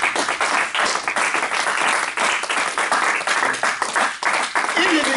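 A church congregation claps and cheers in praise of Jesus, loud continuous applause mixed with shouts and voices of the crowd throughout.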